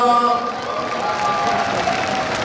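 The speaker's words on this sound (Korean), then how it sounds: "큰 박수를 좀 부탁드리겠습니다" Baseball fans at a KIA Tigers game applaud during a ceremonial first pitch, a loud, rough crowd clatter mixed with a few sustained tones from the stadium, briefly cheering at the start before settling.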